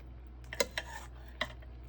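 Meatballs are flipped in a crock pot of sauce on high, giving a few soft clinks of a utensil against the pot with a faint wet shuffle, close and quiet.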